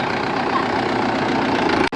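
A tractor engine idles steadily near a village temple, a continuous low, rough mechanical drone that cuts out briefly near the end.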